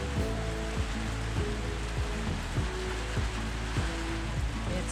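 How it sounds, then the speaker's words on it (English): Heavy rain pouring on a moored boat in a tropical anchorage, a dense steady hiss across the whole span, with a low repeating mechanical thump running underneath. "It's raining pretty hard."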